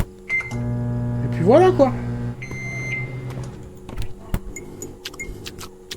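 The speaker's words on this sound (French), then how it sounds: "Je vais mettre ma petite bouffe au micro-ondes." A microwave oven in a haunted-apartment video game hums steadily with beeps at the start and end, while someone talks over it and a few clicks follow.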